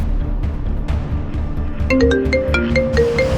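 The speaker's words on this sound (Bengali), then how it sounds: "বস কে যেন ফোন করেছে কি ফোন এসছে" A phone ringtone melody starts partway through, bright and repeating over a low background rumble.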